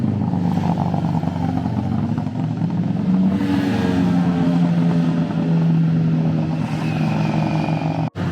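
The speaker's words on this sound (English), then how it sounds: "we have some bikers over here also who are riding here" Engines of motorcycles, 1000cc and larger, drone steadily and loudly on a risky mountain road on Jebel Akhdar in Oman, rising in revs partway through with a brief sharp clatter near the end.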